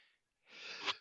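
A single person sneezes once, quietly and close by. A short breathy intake comes first, then after a brief pause a hissing burst peaks sharply just before the end.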